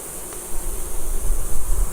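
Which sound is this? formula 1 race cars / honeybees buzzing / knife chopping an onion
honeybees buzzing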